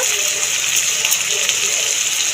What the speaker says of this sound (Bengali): আর অল্প একটুখানি মশলা ধোয়া জল প্রথমে দিয়ে দেব